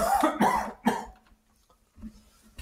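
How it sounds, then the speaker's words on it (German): A man coughs several times close to the microphone in short harsh bursts, then there is a quiet pause and a faint throat-clearing at the end. "Jetzt muss ich auch nochmal husten"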